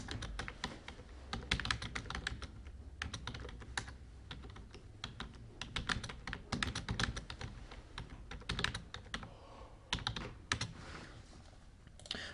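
Continuous typing on a computer keyboard, rapid irregular clacking keystrokes with brief pauses, close and clear with no voices.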